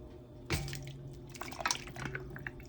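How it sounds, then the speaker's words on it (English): Water runs into a cooking pot for Vietnamese beef pho broth while beef bones are added, giving a splashing gush, a short trickle and a couple of soft knocks close by. "I fill it up 2/3 of the way, and I'm going to add my beef bones back in"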